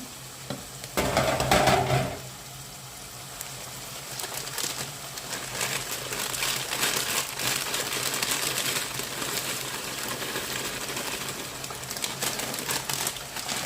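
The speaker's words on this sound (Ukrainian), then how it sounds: "А ми водичка закипіла присолили і додаємо макарони." Pasta tipped into a pot of boiling salted water, a loud rattling pour near the start followed by steady bubbling and hissing of the boil, with no talking.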